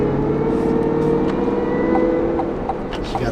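A Cadillac Escalade-V runs with a supercharger blower whine, heard from inside the SUV as a sustained tonal whine over a steady engine drone, with no speech.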